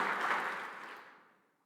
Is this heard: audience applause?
yes